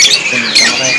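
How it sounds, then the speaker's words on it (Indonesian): A caged Asian pied starling (jalak suren) at a bird market gives harsh, bright squawking calls, up close and loud in two short bursts. "Kalau dari burung jalak suren dia tetap bunyi dia."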